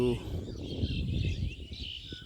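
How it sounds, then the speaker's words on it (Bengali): Village birds chirp and tweet in a busy high chorus, faint but continuous over a low rumble, with a voice talking underneath. "দেখেন পাখিগুলো কিচির বিচির করতেছে"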